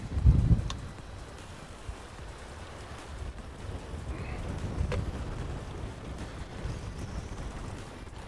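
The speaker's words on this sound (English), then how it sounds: "Wind's blowing us all over the place" Wind gusting across an open lake around a small fishing boat trolling for walleye on a summer day, a steady low rumbling buffet with a louder blast at the start and another swell near the middle, with no one speaking.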